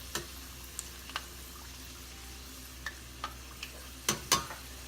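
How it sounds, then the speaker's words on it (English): Homemade beef and pork egg rolls frying in oil, a faint steady sizzle punctuated by scattered sharp ticks and a couple of louder clacks from turning them, close but quiet. "They only have to fry about 3 minutes, I think."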